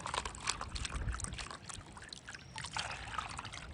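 Water splashes and trickles as a cup is emptied into a gallon container during a soil test, a continuous pour that rises, dips and rises again, heard alone.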